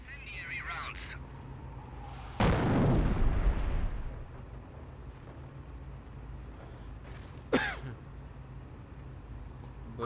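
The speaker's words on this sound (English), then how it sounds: "Order the half-track to barrage the infantry with incendiary rounds again." An incendiary mortar round from a half-track lands in the video game Company of Heroes with one loud close blast that fades into a rumbling tail, followed later by a sharper shorter burst and a distant crow caw.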